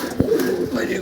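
A pair of breeding pigeons coos nearby, a low throaty burble that swells briefly over a soft background.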